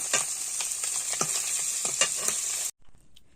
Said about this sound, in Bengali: তো মাছগুলো এভাবে ভেজে নিচ্ছি